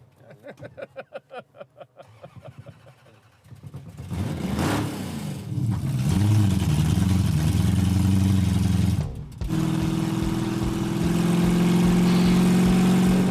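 A Dodge Coronet's engine starts with a few slow cranking pulses, then catches and runs rough, revving up and settling into a steady loud drone in gear, with a brief dip midway before climbing again.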